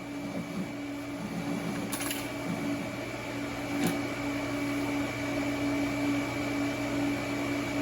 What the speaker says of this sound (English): She's welding nice. Welding real well.